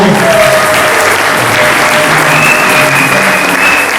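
A church congregation at a Sunday service applauds loudly and steadily, dense continuous clapping filling all four seconds with no break.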